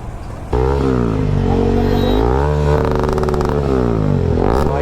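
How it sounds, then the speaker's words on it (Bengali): A motorcycle with a loud aftermarket silencer exhaust starts after a short pause and revs hard and close, its engine note rising and falling with rough, rattling pulses. "তোমার সাইলেন্সারে কি আওয়াজ হয়"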